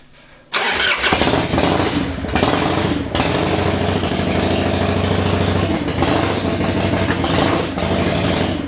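An electric-start mini bike engine kicks over and settles into a loud, steady, close idle that runs without pause; no voices are heard.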